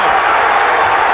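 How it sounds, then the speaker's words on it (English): A packed boxing arena crowd roars at the Mayweather vs Chavez championship fight in San Francisco, a loud, steady wall of cheering and noise with no pauses. "What a crowd."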